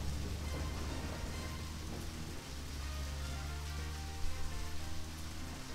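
Steady heavy rain with rolling low thunder in the video game Deadly Premonition: The Director's Cut, a continuous loud downpour and rumble with no talking.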